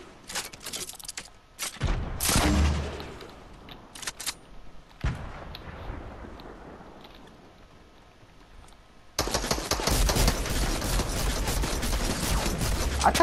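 Gunfire from a gun in Fortnite, with bursts of shots early on, a quieter stretch in the middle, then a dense, sustained rattle of fire toward the end, fairly loud throughout.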